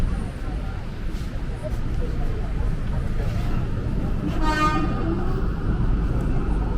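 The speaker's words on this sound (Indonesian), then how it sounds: "KRL Inka yang ini itu tuh suara klaksonnya tuh mirip-mirip JRX," Horn of a new INKA-built KRL commuter electric train in Jakarta, a fairly deep tone: one short toot midway through, over a steady rumbling cabin and rail noise.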